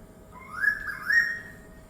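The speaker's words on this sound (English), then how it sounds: "the song of the noisy pitta." A noisy pitta sings a clear, whistled two-note phrase, loud and fairly near, over a quiet background with no voices.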